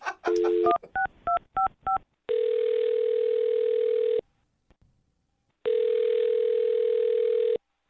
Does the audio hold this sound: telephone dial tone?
yes